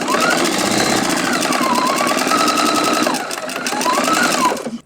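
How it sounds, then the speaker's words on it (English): A sewing machine runs steadily and close while chain stitching quilt fabric pieces, giving a fast, even mechanical chatter with a brief dip in speed near the end before it stops. "So I'm just going to chain stitch them and put them together at the same time."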